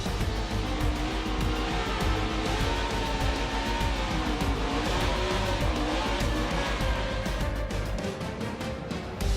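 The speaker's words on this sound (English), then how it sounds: "He'll burn it down at Bristol." A NASCAR race car does a burnout at Bristol, its engine roaring loud and constant with wavering tire squeal throughout, no voices over it.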